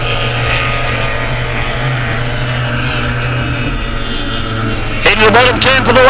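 Unlimited outboard racing boat at a club race day on Lake Eppalock, a loud steady engine drone that holds throughout, with a voice briefly cutting in near the end.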